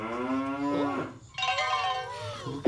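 A cow gives two long, drawn-out moos, close and loud, with a brief pause between them.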